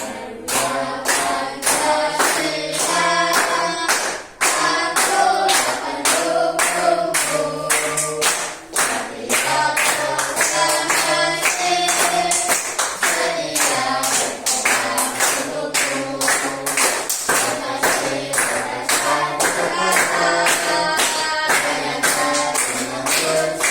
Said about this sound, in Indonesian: Sambil tepuk-tepuk ya, biar semangat.